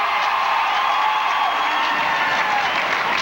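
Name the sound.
crowd reacting at college ice hockey game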